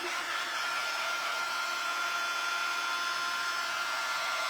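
A hair dryer blows steadily on a fabric Santa ornament, a loud continuous whooshing hum that stays constant from start to finish with no other sounds.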